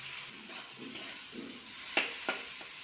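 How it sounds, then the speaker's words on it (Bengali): An egg fries in ghee in a home kitchen, giving a steady close sizzling hiss broken by a few sharp clinks and stirring scrapes of a utensil, with no talking. "দেখো এবার ডিমটাকে ভেজে নিচ্ছি।"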